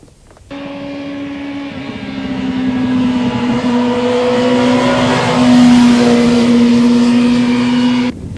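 A motorcycle engine accelerates out of a corner, its loud, steady drone rising in pitch and intensity over several seconds before cutting off, with no talking.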